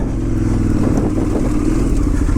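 A KTM 990 Adventure motorcycle rides off-road across autumn fields and forest tracks, its engine a loud, steady close-up drone with mechanical clatter throughout.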